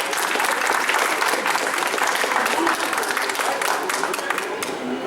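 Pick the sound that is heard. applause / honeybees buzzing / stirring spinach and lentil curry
applause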